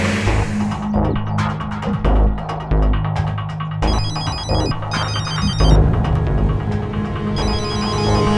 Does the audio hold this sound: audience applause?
no